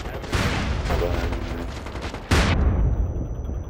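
Video-game gunfire from a .50 cal sniper rifle: rumbling shots, then one loud, sharp blast near the end, with a player's voice talking over it.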